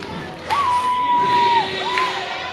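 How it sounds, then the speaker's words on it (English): Baseball crowd at a Bowie at Reading game: a swelling roar of cheering with a sustained whoop or whistle rising above it, then easing off, heard from within the stands. "Crowd's starting to get into it a little bit."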